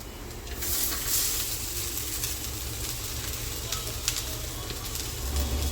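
Rice stir-fries in a hot pan with shredded cabbage and chilli for homemade fried rice, a steady dense sizzle and crackle close up, with occasional light scrapes and clinks of a spatula.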